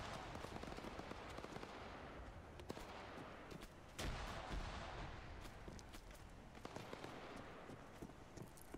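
Explosions and gunfire in Arma 3 combat: a sustained roar of rapid shots with a heavier burst near the middle, loud and dense throughout.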